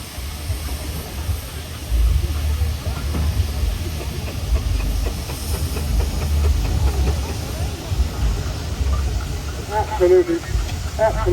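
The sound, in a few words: steam traction engine hissing steam at rally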